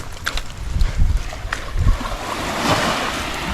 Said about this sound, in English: It was too windy out there.